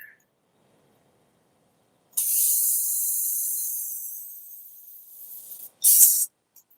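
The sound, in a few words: spray paint can spraying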